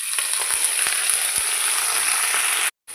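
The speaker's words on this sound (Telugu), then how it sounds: "ఇప్పుడు అందులో ఈ కరివేపాకు వేగించేసుకోవాలి." Curry leaves sizzling and frying in a spoonful of hot oil, a bright, loud, continuous crackle with a few stir clicks, no talk, ending in a brief cut of silence.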